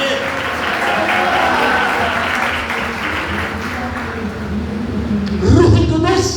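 A church congregation at a Sunday meeting breaks into sustained, dense applause mixed with cheering voices, steady throughout and swelling briefly louder near the end.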